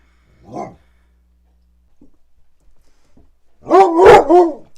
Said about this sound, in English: Don't woof at me.